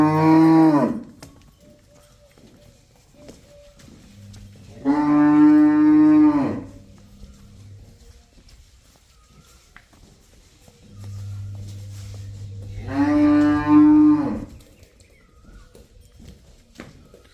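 Cattle on a farm, a buffalo and cows offered for sale, give three loud, drawn-out moos, each lasting a second or two and separated by several seconds of quiet.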